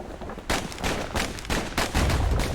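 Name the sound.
slinger pistol shots from the video game Bastion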